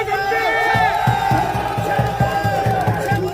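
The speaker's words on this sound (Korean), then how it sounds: "박수" Following a speech at Chonnam National University, a crowd claps and cheers loudly, with rhythmic shouted chanting pulsing in even beats over roughly three seconds.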